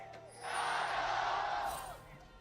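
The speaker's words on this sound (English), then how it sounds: "Crowd just going off." Crowd at a Worlds 2017 League of Legends play-in final esports arena roaring and cheering loudly, a sustained swell of noise that builds quickly and holds for over a second before fading.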